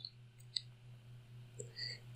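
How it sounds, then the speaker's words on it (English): Computer mouse clicks on a website menu, a few sharp, quiet, close clicks spaced apart over a low steady hum, with no talking. "I click returns issued"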